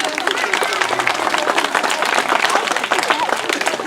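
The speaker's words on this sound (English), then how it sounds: "This good lady deserves a round of applause." Dense applause from a crowd at the Robin Hood Festival, steady and loud throughout, with some voices mixed in.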